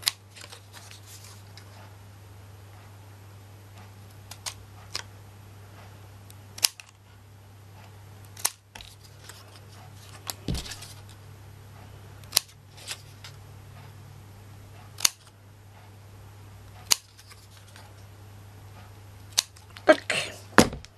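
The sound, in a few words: scissors cutting small pieces of paper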